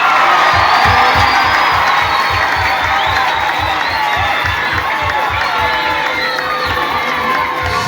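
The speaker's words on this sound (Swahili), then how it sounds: "pima tu kuchapia Kristo makofi" A church congregation claps and cheers in praise of Christ: loud, continuous crowd noise with shouts and whoops riding over a steady rhythmic beat of clapping.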